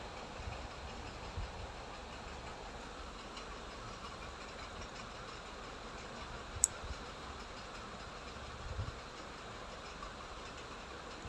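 A sewing machine stitches frock suit fabric with a faint, steady low mechanical whir running throughout, quiet and continuous with no talk.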